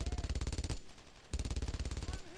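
Machine gun fire in Brothers in Arms: Road to Hill 30, two rapid, evenly spaced bursts of loud, close shots, each lasting under a second, separated by a brief pause.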